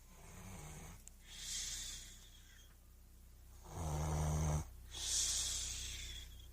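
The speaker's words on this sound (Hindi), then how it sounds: "जोर जोर से खर्राटे लेने लगती है" Loud, raspy snoring from a woman in a few drawn-out breaths, each a rough rumbling snore with airy hiss between, close by with no talking.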